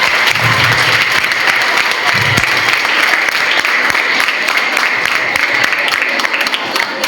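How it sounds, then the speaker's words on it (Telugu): An audience at a national-level technical symposium in an engineering college applauds, with loud, dense, sustained clapping filling the room for about seven seconds. "కాబట్టి చప్పట్లతో మీరు స్వాగతించండి"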